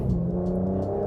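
A V12 Aston Martin Vanquish in Sport Plus mode, its engine note a sustained, strong hum that holds steady through a brief burst.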